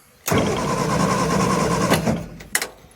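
Cranking over the engine of an abandoned classic car with no fuel: a starter motor churning steadily for about two seconds without catching, then stopping, followed by a couple of short clunks.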